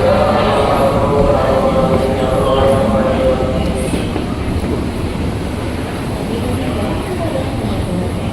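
A train rumbles at Manggarai station in Jakarta, a loud, steady roar that persists throughout, with a busy station atmosphere and voices faintly underneath.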